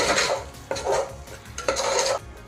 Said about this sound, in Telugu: ఇప్పుడు ఇందులోకి వన్ కప్పు పెరుగు వేస్తున్నాను పెరుగు ఇష్టం లేని వాళ్ళకి స్కిప్ చేయండి ఇప్పుడు మొత్తం ఒకసారి బాగా కలుపుకుందాం